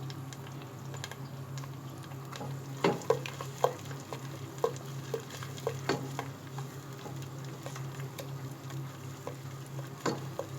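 Green chili paste stirred into tomatoes in a frying pan, a soft continuous sizzle with a string of sharp spoon taps and scrapes against the metal, close by and without speech.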